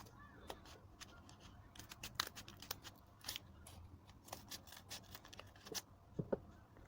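Scissors snip a paper template for a handmade pompom, giving a series of close, crisp cuts at an irregular rhythm over quiet room tone.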